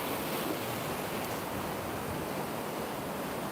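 A waterfall pours down into a stream on a countryside walk, giving a dense, steady rushing wash with no breaks, heard alone and at moderate distance.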